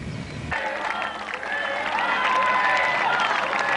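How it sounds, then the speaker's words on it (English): A roadside crowd cheers a rider on a long uphill finishing straight of the 1991 Tour du Pont cycling race; cheering and applause swell suddenly and hold loud and dense. "As Graywall hears the crowd's encouragement up the final straightaway"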